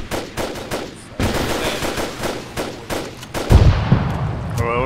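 Rapid gunfire rattles through an ArmA 3 battlefield while an anti-tank rocket launcher fires on a BMP, a louder low blast landing partway through amid the steady crackle of shots nearby.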